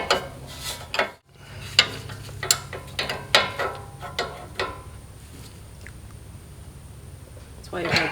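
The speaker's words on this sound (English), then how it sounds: "And this, you'll need a 3/4 inch wrench." A 3/4 inch wrench ratchets on a sway bar end link of a 2012 fifth-generation Toyota 4Runner, giving a series of sharp metallic clicks and clanks at an uneven pace over a steady background hum.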